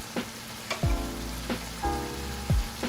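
Goat trotters (paya) frying in a pot, a steady loud sizzle with repeated sharp clatters of a spoon stirring against the metal, no voices.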